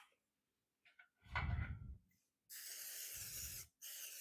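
Cooking spray hisses onto a mini loaf pan in two bursts, the second longer and broken by a short gap, preceded by a few handling knocks and clatter.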